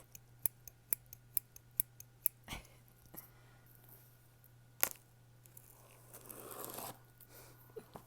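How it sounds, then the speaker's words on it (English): Close, quiet snips of small scissors cutting open a cardboard box, a quick run of evenly spaced cuts, then a few scattered snips and a soft rustle of cardboard. "I'm going to use these little scissors to open the box."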